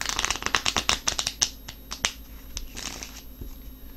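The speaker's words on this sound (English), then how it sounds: "I'm gonna give these one more good shuffle." Deck of tarot cards being shuffled by hand up close, a quick flurry of crisp riffling snaps and flutters that eases into softer sliding and rustling.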